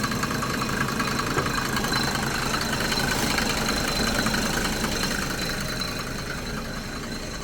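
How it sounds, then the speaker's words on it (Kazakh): A SsangYong Korando with a 602 diesel engine idles in a steady, even clatter with a faint knocking texture, close and continuous, easing slightly toward the end with no talk. "моторда артық дауыс жоқ"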